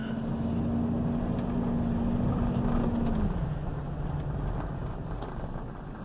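A 2003 GMC Yukon Denali XL drives forward as a steady, loud engine and road drone with a pitch that drops partway through, heard from inside the vehicle with no talk.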